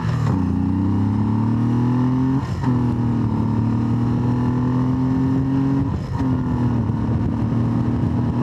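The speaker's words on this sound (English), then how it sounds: "It's actually calm motorcycle." An 1800cc motorcycle engine drones steadily and loudly, its pitch climbing gradually, with two brief dips as gears change.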